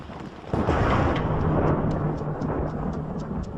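Thunder rumbles through a coastal storm, a sudden loud onset swelling into a sustained, close, broadband roar that slowly fades, with no talk over it.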